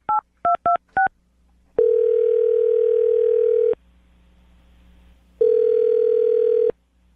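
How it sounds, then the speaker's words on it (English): A telephone dials a number with four quick keypad tones in a row, followed by two long, steady ringback tones separated by a pause. "I'm going to dial the phone number"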